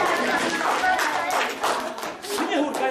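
An audience claps for a costumed Snow White figure at a stage show, a steady patter of many hands filling the room with a fuller surge near the end and talk running alongside.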